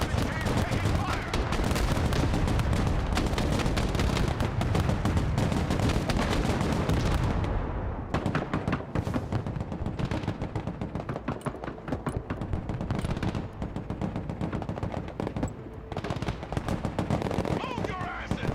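Sustained battlefield gunfire in the real-time war game Broken Arrow, dense overlapping rifle and machine-gun bursts rattling continuously and loudly with explosions mixed in, under radio-style voice chatter.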